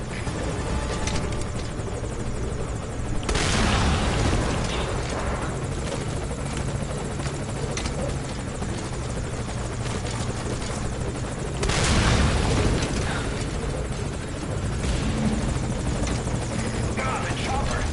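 Military helicopter in Metal Gear Solid 5 Ground Zeroes, a loud, continuous rotor thrum and engine roar filling the whole stretch, swelling twice with heavy booms and gunfire mixed in, voices talking over it.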